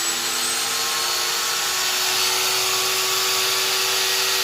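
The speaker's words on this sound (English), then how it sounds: "I'll turn on my spindle." Hitachi Metabo HPT M12VC router spindle, run at a turned-down variable speed, gives a steady high-pitched whine with a constant motor hum, holding level and continuous throughout.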